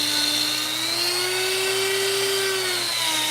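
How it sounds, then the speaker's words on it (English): A rotary burr on a Hercules grinder smooths the ears of a chainsaw-carved wooden bear, giving a steady high-pitched whine whose tone rises slightly and falls back. The sound is close and continuous, with no talking. "Just using the burr with my Hercules."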